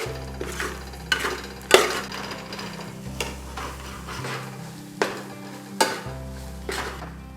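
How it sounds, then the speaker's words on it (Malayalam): A spoon stirs garam masala and pepper powder into beef curry in a pan over a low flame, with repeated sharp scrapes and knocks against the metal over a soft sizzle, close and without talking. "നമുക്കിനിയിപ്പം ഇളക്കി കൊടുക്കാം."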